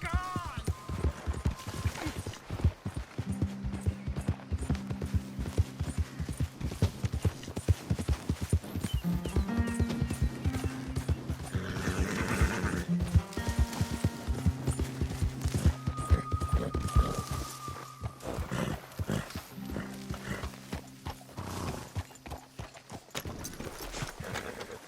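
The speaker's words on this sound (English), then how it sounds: "Hey, get that horse out of here." Rhythmic hoofbeats of a horse clip-clopping at a run in Red Dead Redemption 2, with a brief whinny, over steady game music and ambient noise.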